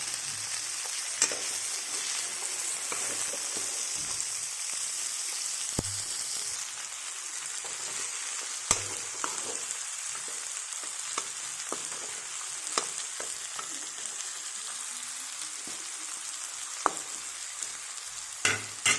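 Tomato fries in a hot pan with a steady, close crackling sizzle that runs throughout, broken by occasional sharp pops and light clinks of a spatula.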